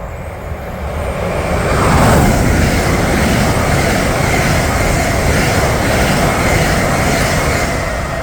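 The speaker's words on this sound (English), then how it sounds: "passing through now is a pair of LNWR class 350s. Oh no, it's a 730, never mind" British Rail Class 730 electric train, Birmingham New Street to London Euston service, passes through Berkhamsted station, its loud rushing rumble swelling over the first two seconds and then holding steady and close for the rest.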